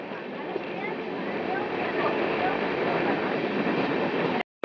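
A passenger train runs on rails near Rajahmundry after crossing the Godavari, giving a steady, close rolling rumble and rattle that continues evenly before cutting off abruptly at the end.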